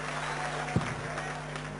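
Darts crowd at the 2004 World Championship applauding and cheering a 180 maximum, a steady dense wash of clapping with a brief thump partway through.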